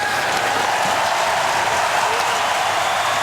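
A sellout arena crowd at Joe Louis Arena applauds during a Buffalo Sabres vs. Detroit Red Wings hockey game, with steady, dense clapping at a constant level throughout and no break.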